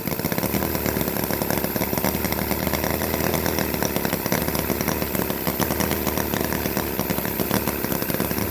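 A battery-powered Holt H75 four-cylinder model engine running, with a dense, steady, loud mechanical buzz and rapid rattling, continuous and close without any break.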